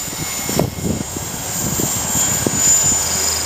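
A Mini Cylon RC helicopter flies with its rotor held in governor mode, giving a steady, high motor whine and a constant rotor drone with soft airy pulses, no talk.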